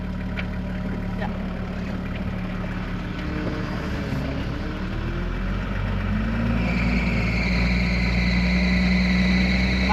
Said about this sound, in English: My belt always squeals.